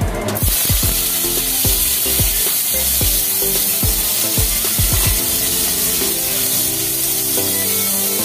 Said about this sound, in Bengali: আচ্ছা এবার শুটকি মাছটাকে একটু ভাজবে